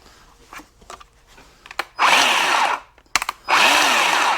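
A Harbor Freight 10-inch battery electric chainsaw whirs up in two loud bursts of spinning chain noise with a rising and falling whine, preceded by handling clicks and clunks close by.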